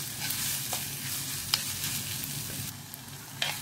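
Prawn roast base sautéing in a pan with a pinch of salt, giving a steady close sizzle with a few brief scrapes of stirring throughout.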